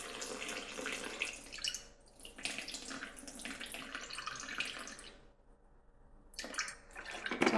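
Spring water pours into a bowl for sourdough bagel dough in a steady, close splashing stream that stops briefly, then resumes for a shorter final pour.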